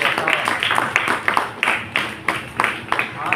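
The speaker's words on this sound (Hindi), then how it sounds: "एक बार तालियां हो जाए जोरदार" Applause from a bhajan class audience: a steady, fairly close run of claps with regular sharp peaks, continuing for a few seconds with voices faintly underneath.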